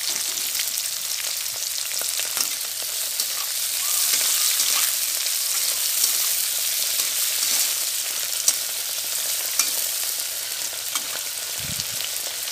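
Garlic with chopped onion and chilli fries in oil in a village kitchen, giving a steady hissing sizzle with faint crackles and the occasional stir, quiet and continuous.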